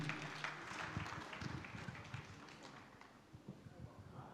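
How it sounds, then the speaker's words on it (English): Faint audience applause in a hall as a professor walks to the podium, scattered uneven claps and thumps at a distance, thinning and becoming sparser toward the end. "Let's keep clapping."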